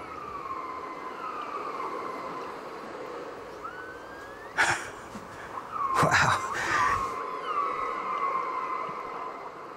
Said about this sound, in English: So this is the sound of orcas being picked up by underwater microphones.